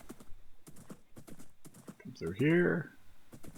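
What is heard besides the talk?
horse hooves clip-clopping in a video game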